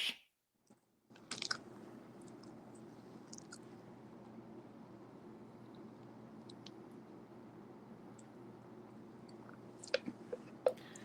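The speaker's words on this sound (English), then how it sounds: "Can you hear me chewing?" A person chews with an open mouth, producing a steady wet, smacking mastication sound close to the mic for several seconds, with a few sharper clicks and crunches toward the end and no talking.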